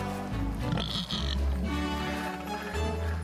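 Pigs oink and grunt in The Plucky Squire, a video game, as a few low, throaty snorts of varying length pass over a continuous game soundtrack, with no talking.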